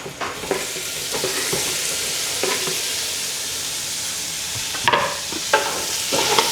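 Tomatoes stirred into a sizzling pan of sautéed bitter gourd (ampalaya) and pork, a steady close frying hiss with scraping stir strokes and louder clatters near the end.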